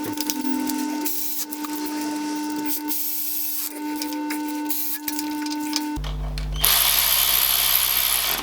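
A power tool drives bolts into the rear hub reduction of a Foden truck under restoration, with a loud steady whirring broken by short pauses and changes in pitch, ending in a harsher, noisier burst.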